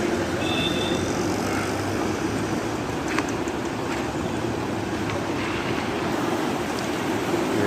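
Floodwater streams toward the river in Kohila during extreme weather, a continuous rushing churn with low rumble beneath and a few faint higher squeaks and clicks, steady and close.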